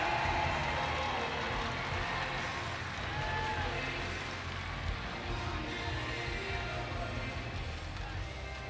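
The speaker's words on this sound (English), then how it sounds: "Team Van Dam cheering for you." A crowd at the 2013 Bassmaster Classic bass fishing weigh-in cheers, producing a dense, steady roar of many voices that fills the hall throughout, with a voice talking beneath it.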